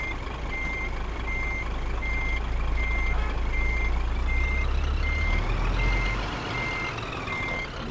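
Steady evenly spaced reversing beeps from a truck in Euro Truck Simulator 2, sounding over a constant low engine rumble, with no talking.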